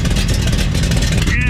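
A 1971 Chevelle engine runs with its exhaust headers rotted through on the driver's side, giving a loud, steady, raspy rumble that holds without a break from start to finish.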